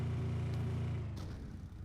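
A car reverses in PUBG, a low engine rumble that holds steady, then tapers and fades after about a second, heard alone.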